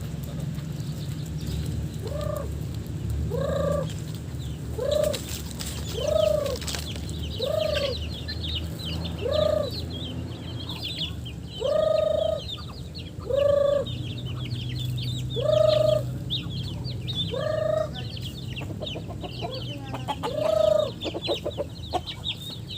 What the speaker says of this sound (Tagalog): So ngayon guys ay magpapakain tayo ng mga pato